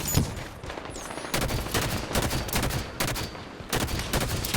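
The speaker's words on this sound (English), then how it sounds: "Hostile fire coming from that fuel tank." Dense, loud bursts of rapid automatic gunfire in the Halo 5: Guardians shooter game, coming in several sustained volleys with brief gaps, close and harsh with no talk over it.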